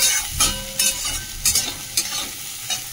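Boiled soybean chunks fry loudly in hot oil, with a crackling sizzle broken by several quick stirring scrapes and clatters close by.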